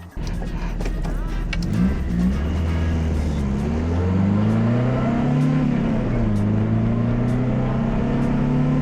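A car accelerates hard from a standstill ahead of a 0 to 60 braking test on Continental tyres, its engine climbing through rising revs with gear changes, loud and close, with a steady drone throughout.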